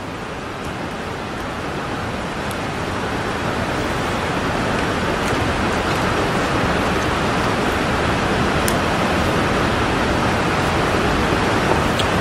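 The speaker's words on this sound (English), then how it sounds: "You may hear some rain outside the building today." Rain falling outside a building, a steady dense broadband hiss that stays constant and fairly loud throughout, with no voices.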